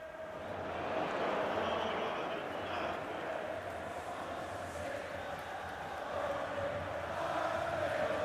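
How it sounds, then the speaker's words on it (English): A virtual stadium crowd in the FC Mobile football game roars as a steady, loud wash of cheering, with chanting swells rising and falling throughout. "like the sound now from the crowd here in the virtual crowd"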